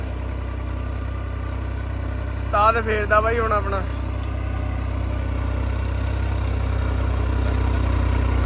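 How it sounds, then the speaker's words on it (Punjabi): A tractor engine runs in a potato field, a constant low, rumbling drone holding steady throughout, with someone briefly speaking over it. "ਆਪਣਾ ਵਾਲਾ ਉਸਤਾਦ ਬੈਠਿਆ ਬਾਈ ਟਰੈਕਟਰ ਤੇ ਦੂਏ ਕਿਆਰੇ ਜਾ ਗਏ ਆ"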